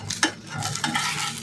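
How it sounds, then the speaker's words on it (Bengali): An egg omelette fries in oil in a pan while a spatula scrapes and turns it, giving a close sizzle under repeated stirring and scraping sounds. "উল্টে পাল্টে ভেজে নেবো"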